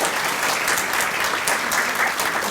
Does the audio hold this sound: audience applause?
yes